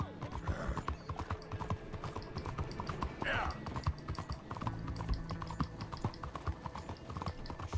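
Horse hooves clip-clop in a quick steady rhythm in Red Dead Redemption II, with a brief whinny partway through, all at a moderate distance amid light background clicks.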